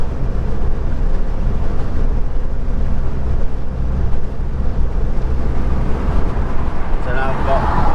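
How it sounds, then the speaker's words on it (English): Steady loud road roar with a deep engine rumble and heavy wind buffeting, continuous throughout, from inside a Ford Fiesta MK8 ST with Scorpion sports exhaust open, roof fully back, at 70 mph. "70 mile an hour with the exhaust open."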